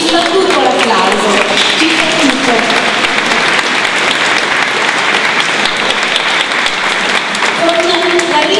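Sustained audience applause fills a basilica after a choir performance, a dense continuous roar of clapping lasting several seconds with faint voices mixed in beneath it.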